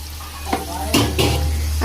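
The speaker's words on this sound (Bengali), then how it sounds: "এখানে মশলা কষানো হচ্ছে" Spices sizzle loudly in hot oil for dal, a dense close frying hiss marked by a few sharp spatters and bursts, with no talking.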